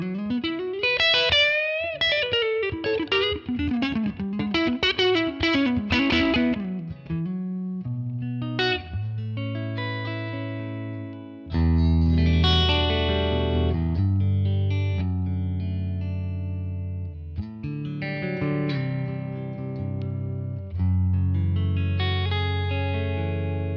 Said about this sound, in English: I'm liking the Fender Super Reverb in general. It's a killer amp.